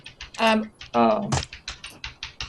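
Rapid keyboard typing clatters in quick, uneven bursts of clicks, close and distinct, interrupted by two loud spoken utterances near the start.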